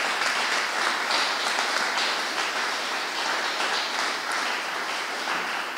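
Steady, dense applause from an audience at a school award ceremony for a fair-trade class, a continuous hiss of many hands clapping at even loudness throughout, with no speech over it.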